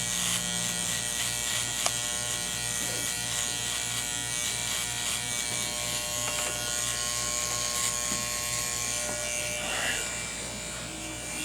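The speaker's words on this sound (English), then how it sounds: "this is where I do most of my shaving at" An electric clipper buzzes continuously and close while cutting a skintight fade, a steady droning hum with slight changes as it moves over the head, and a voice talks faintly underneath.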